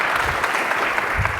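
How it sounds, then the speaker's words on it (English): Applause from a conference audience at a FinOps X 2024 session, a steady dense wash of clapping held for the whole short stretch at fairly close range. "Can I get a massive applause for Brian and Elliott for that?"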